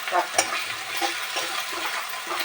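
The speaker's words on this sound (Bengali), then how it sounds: "গরম মশলাটা না তেলের ভিতর দিয়ে ভাজলে ভীষণ ভীষণ গন্ধ বেরোয়" Ground garam masala spices frying in hot oil for a simple cabbage dish, a steady close hiss broken by a few sharp scraping clicks of a spatula stirring the pan, with no talking.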